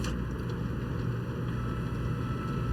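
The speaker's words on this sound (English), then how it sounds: "The gentle hum of the aircon, the big old PC towers whirring away." Steady low hum of air conditioning mixed with the whir of old PC tower fans in an empty office on a video game multiplayer map, a constant drone with no other sounds.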